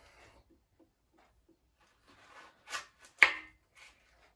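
Potatoes being cut with a knife on a board: a few faint soft taps, then two sharper chopping knocks close by, with quiet gaps between them.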